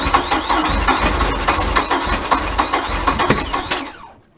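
The engine of an old, rotten 34-foot timber cruiser boat runs roughly, loud and close, with uneven sputtering pulses, then cuts out abruptly near the end.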